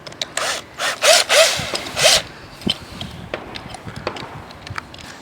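A hole saw bites into a workpiece at an angle, giving a few loud rasping bursts close by, then lighter scattered ticks and clicks as the cutting slows and stops.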